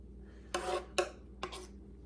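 Three short metallic scrapes of a spoon scooping celery and onion from a pan of chicken and rice in cream sauce, close and fairly quiet, evenly spaced with pauses between.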